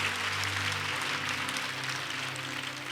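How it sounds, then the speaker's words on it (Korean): Church congregation applauding together after a prayer, a steady dense wash of clapping throughout, with a low organ or keyboard tone sustained underneath. "하나님 앞에 영광의 박수를 올려드립니다."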